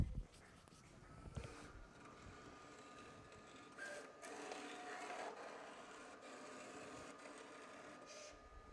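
A Silhouette Cameo 4 cutting machine slices green glitter material, giving a steady, low mechanical whir with faint scraping that runs continuously and fairly quietly throughout, with a few brief louder bumps near the start.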